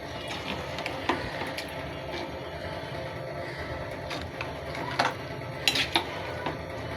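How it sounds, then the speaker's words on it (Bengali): Beef curry with potatoes being stirred in a cooking pot, with soft scraping and scattered sharp metallic clinks of a utensil against the pot over a low, steady background sizzle. "নাড়াচাড়া করে দিচ্ছি"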